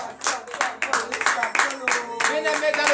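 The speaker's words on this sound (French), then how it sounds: "Que je vous demande d'applaudir très très fort." A church congregation at a morning prayer service in Benin claps loudly in quick, uneven bursts, with voices rising over the applause.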